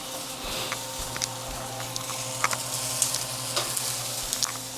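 Potatoes sizzle steadily in a skillet alongside a meal-prep breakfast of waffles, with a dense frying hiss throughout and occasional sharp pops and clicks of stirring over a low stove hum.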